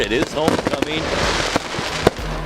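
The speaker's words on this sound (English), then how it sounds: "as you can probably hear the fireworks going off right behind me here in Cashmere" Fireworks burst at a homecoming high school football game between Cashmere and Zillah, the Cashmere Bulldogs' home display: repeated sharp bangs and crackles ring out nearby while a commentator speaks over them.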